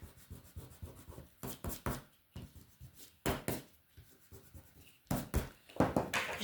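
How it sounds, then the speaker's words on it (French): A rubber eraser rubs back and forth on decorative scrapbooking paper, several bursts of close, scratchy strokes with short pauses between them, alone and with no talk. "Ensuite, moi, je vais gommer ça."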